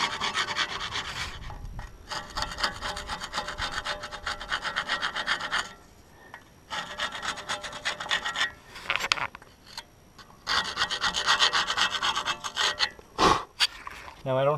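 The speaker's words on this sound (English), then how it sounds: "I'm just going to take a little chisel and just smooth those surfaces out and get all the rust off there" A small chisel scrapes rust off brake caliper surfaces on a 1992 Jeep YJ, long harsh rasping strokes in repeated bursts with short pauses, close and loud.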